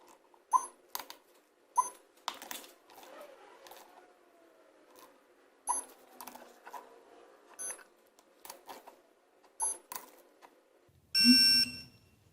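A torque wrench tightens 8mm crankcase cover bolts on a Toro engine in a crisscross pattern, with scattered quiet metallic clicks and ratcheting taps in a quiet room, then a short louder click burst at the end.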